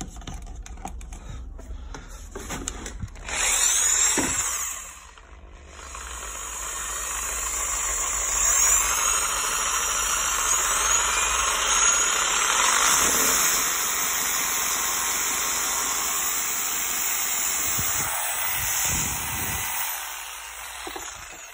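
A 2013 Makita JR3050 reciprocating saw, original and made in China, runs steadily and fairly loud for most of the clip with a high whining drone, after a few clicks at the start; a brief dip occurs near the start.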